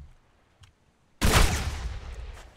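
A single sharp shotgun blast from a pellet weapon in the pirate video game Blazing Sails, loud and close, with a long noisy tail trailing off after a brief faint click beforehand.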